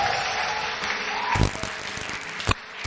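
A church congregation applauds in a steady, full wash of clapping, with a few sharper claps standing out near the end.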